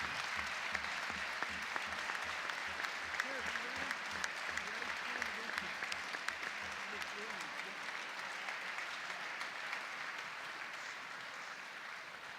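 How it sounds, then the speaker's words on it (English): A crowd in a North Penn High School gymnasium applauds student athletes and coaches, a sustained, dense roar of clapping with a steady rhythmic beat early on, voices mixed into the noise. "How about a big round of applause for all of our student athletes and coaches?"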